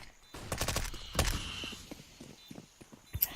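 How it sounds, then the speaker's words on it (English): Grenade blasts and rapid gunfire ring out in Counter-Strike: Global Offensive on the Inferno map, a sharp burst followed by scattered shots and clattering footsteps at moderate volume. "Very effective nade."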